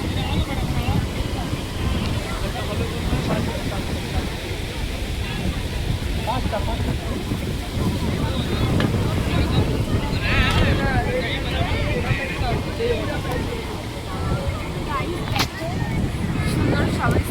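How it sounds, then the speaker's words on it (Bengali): Strong wind buffets the microphone at the seashore in Digha. A heavy, continuous low roar runs throughout, with surf likely mixed in beneath it. "প্রচণ্ড হাওয়া দিচ্ছে আজকে"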